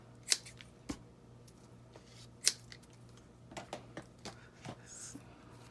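Scissors snipping pieces of coffee-dyed seam binding for a paper craft page layout, a few sharp, isolated cuts spaced irregularly, fairly close and quiet.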